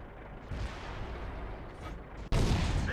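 An M48A1 tank cannon in a video game fires one heavy, loud blast near the end, after a steady rumble of engine and mechanical noise.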